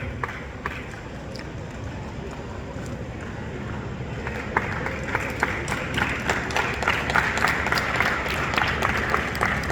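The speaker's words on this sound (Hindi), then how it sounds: "एक बार जोरदार ताली से आपका स्वागत," Loud, sustained applause from a crowd welcoming a guest at a national taekwondo tournament in Dehradun, India, dense clapping that builds steadily over a steady hall background.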